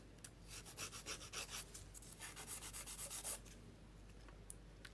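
A nail file rubs rhythmically across fingernails, shaping them before a builder gel manicure; quick close strokes come in short bursts with brief pauses, no talking.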